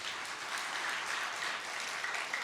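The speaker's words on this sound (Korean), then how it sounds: "큰 박수 부탁드립니다." Soft, dense clapping from a church congregation at a Friday evening worship service, a brief, even wash of applause heard at a moderate distance with no voices over it.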